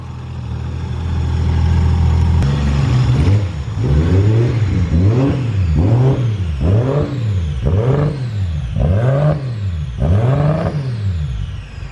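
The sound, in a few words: Nissan RB26 single turbo engine revving on first start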